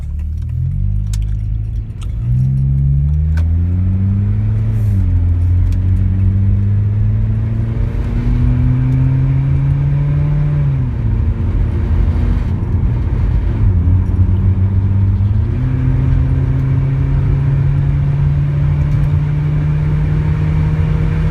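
Honda Accord with a muffler delete pulling away on takeoff, a loud raw exhaust drone climbing in pitch through several gear changes and settling into a steady cruising rumble, close and continuous.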